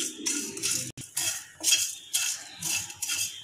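Dry whole spices, cumin and coriander seeds, being stirred in a pan with a utensil make repeated scraping, rattling sweeps in uneven bursts, close and moderately loud, with no talk.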